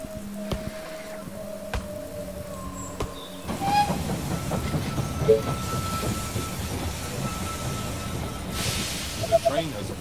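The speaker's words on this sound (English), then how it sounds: "The train has arrived at the station." A train rolls into a station in the game They Are Billions with a steady rumble and faint rail clatter, a brief high squeal near the end, under a bed of game sounds.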